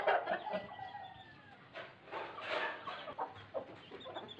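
A black hen clucks in short, irregular bursts close by, with a few higher squawks mixed in against a quiet background.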